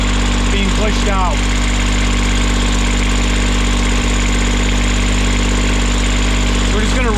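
Sailboat diesel engine idling steadily after its fuel lines were bled, a loud, constant low mechanical drone with a faint chirping squeal near the start and again at the end; a voice talks briefly over it.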